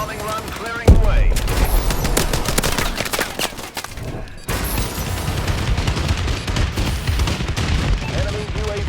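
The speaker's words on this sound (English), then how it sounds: "Friendly bombing run clearing the way." Heavy explosions and sustained gunfire from a friendly bombing run in the Call of Duty: Advanced Warfare multiplayer game, a loud continuous barrage of booms and rapid shots that pauses briefly near the middle, with faint in-game announcer voices.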